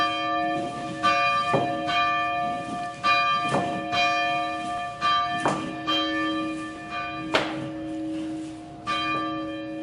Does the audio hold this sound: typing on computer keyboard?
no